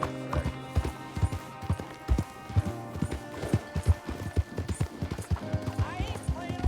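Horse hooves clip-clop at a steady walking pace in the video game Red Dead Redemption II, moderately close, with a low hum and faint background sounds underneath and no clear talking.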